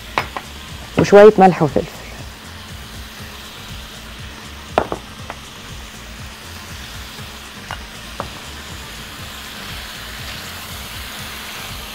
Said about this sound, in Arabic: هنزل الجمبري اول حاجه، وهحط عليه على طول الفلفل الحراق والثوم المفروم